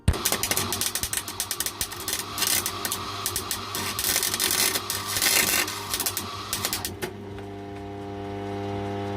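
Welding with the heat set too high blows through the metal, producing a loud, close, crackling buzz with rapid sputtering pops that runs for several seconds, then cuts off, leaving a lower steady hum.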